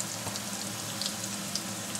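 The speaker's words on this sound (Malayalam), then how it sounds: "ഇഞ്ചിയും വെളുത്തുള്ളി ഇട്ടു, ഇത് നന്നായിട്ട് നമുക്കൊന്ന് ഇളക്കി കൊടുക്കാം." Ginger and garlic frying in a pan for a pomelo pickle, giving a steady, soft, even sizzle with faint crackles and no break.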